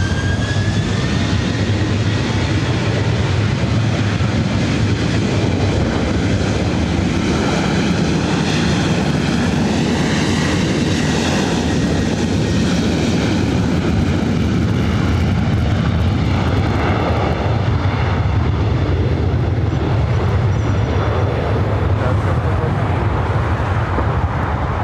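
An American Airlines Boeing Dreamliner arriving at LAX, a loud steady roar of jet engines that fills the whole stretch, swelling slightly in the middle and holding constant without pause.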